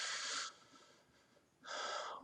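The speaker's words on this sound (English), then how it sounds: "That's my dog in the background. Don't be offended. He coughs." A dog coughs in the background in two harsh, breathy bursts separated by a quiet pause, fairly close and with no talking over it.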